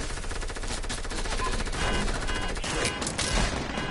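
Dense automatic gunfire from a Fortnite match on PS4 rattles in rapid, continuous bursts, loud and close, with a few heavier shots standing out near the end.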